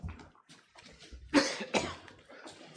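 Coughing in a courtroom, a couple of harsh, close bursts amid quiet room noise, with no talk in between.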